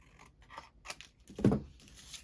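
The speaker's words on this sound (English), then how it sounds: "I have to trim that one just a little bit at the bottom." Scissors trim a small amount off the bottom edge of a handmade paper slider card. The snips are quiet and close, a few short cuts with one firmer crunch near the end.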